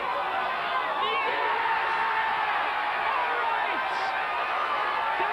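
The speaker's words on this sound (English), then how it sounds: "The crowd's on their feet!" Spectators at the 1999 World 9 Ball Championship pool match between Efren Reyes and Jimmy White erupt in loud, sustained cheering and whooping, a dense crowd roar that holds steady throughout with excited shouts scattered across it.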